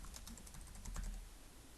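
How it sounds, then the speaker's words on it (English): Soft, quick typing on a computer keyboard, a light irregular patter of key presses heard alone at low volume. "I'm just going to type in the word After Effects again"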